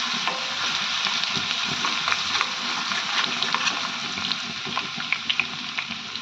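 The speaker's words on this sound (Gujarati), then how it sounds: "તેલ ગરમ થઈ ગયું છે। હવે આપણે એની અંદર જીરું એડ કરી દઈશું। થોડું આદુ લસણ એડ કરીશું અને સારી રીતે સાતરી લઈશું।" Cumin, ginger and garlic sauté in hot oil for pav bhaji, a dense, continuous close sizzle with light crackling pops and occasional stirring.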